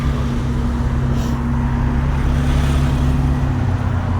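Saturday traffic jam on a Turkish road: a steady, close drone of idling and creeping car engines with low hum, continuous throughout and without voices.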